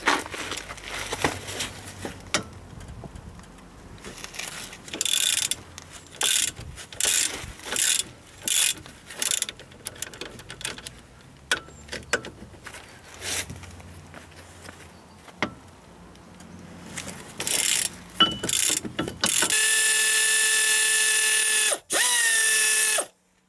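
A ratchet wrench clicks in quick bursts while removing a brake caliper support during a wheel bearing replacement. The stop-start ratcheting is close, with a steady mechanical whir near the end.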